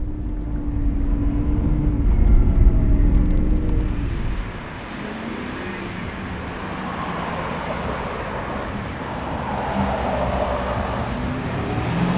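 A 1995 BMW Alpina 530i with a manual gearbox on the move, a loud engine and road roar that drops to a quieter steady cruise halfway through, with wind and tyre noise.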